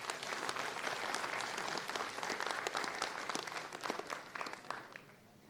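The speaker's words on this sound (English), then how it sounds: "So a really big round of applause for all the speakers." Dense conference audience applause for the speakers at PyCon India 2024 closing address, a sustained roar of many hands clapping that holds steady and then tapers off near the end.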